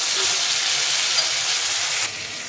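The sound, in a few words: chopped tomato added to hot oil, sizzling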